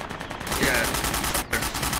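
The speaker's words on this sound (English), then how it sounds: "I heard the AK sound first." AK rifle gunfire in a jungle game match, a quick volley of sharp shots at a distance, fairly faint and clustered in bursts, with a voice talking over it.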